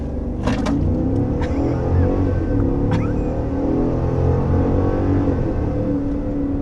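A 2023 Cadillac Escalade Sport Platinum accelerating hard toward 60 mph, heard from inside as a loud continuous engine roar and road rumble with a few clicks and knocks over it.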